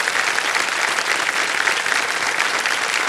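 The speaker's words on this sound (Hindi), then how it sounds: "तालियां बज जाए इनके लिए" Loud, dense applause from the studio audience of a TV quiz show fills the whole stretch, an even wash of many hands clapping with no talk over it.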